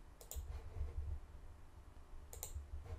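Two pairs of quick, faint computer mouse clicks sound at the start and near the end over a low background hum in a quiet room.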